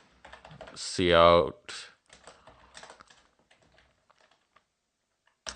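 Someone types code on a computer keyboard, a fast burst of clicking keystrokes under a man's speech, followed by a few scattered, fainter key taps as the talking stops.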